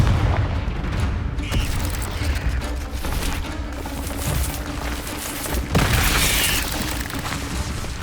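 Spell casts go off in Hogwarts Legacy on PS5, with loud fiery blasts and booming impacts rolling over continuous combat noise and no voices.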